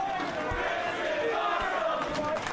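Canadian indie wrestling crowd in a small club roars and chants continuously at a Lance Storm versus Christian Cage match, a loud, dense wall of voices with a few sharp thumps.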